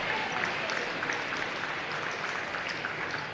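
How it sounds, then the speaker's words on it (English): Applause for a senior player at a men's college basketball game against Molloy University, a steady, moderately loud wash of clapping from a gym crowd that holds evenly throughout. "Let's hear one more round of applause for our senior, Justin Zurich"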